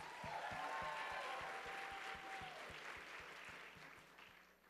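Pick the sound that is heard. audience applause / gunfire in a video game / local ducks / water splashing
audience applause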